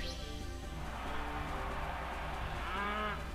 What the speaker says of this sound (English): So she's leading off with a cow.